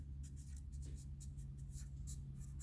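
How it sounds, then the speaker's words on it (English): A Sharpie marker draws lines on a part of a Teryx 800 steering rack, giving faint, repeated scratchy strokes over a steady low mechanical hum. "I'll Sharpie 2 lines, and then I'll write center"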